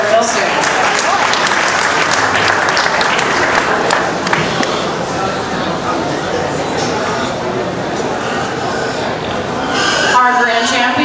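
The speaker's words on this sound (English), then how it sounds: "Give him a big round of applause." Loud, sustained crowd applause for the grand champion market goat at a livestock show arena, continuous clapping from a large audience with voices in the mix, briefly dipping near the end.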